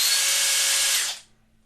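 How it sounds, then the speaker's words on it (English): A Flex power tool motor whines at very high speed, a loud, steady, high-pitched spin for about a second before winding down quickly to quiet. "You can just hear it in the speed of the motor."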